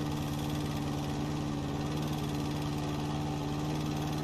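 A lawn mower engine in a house and garden flipping video game drones at a steady idle-like pitch, constant and fairly loud with no break or voices.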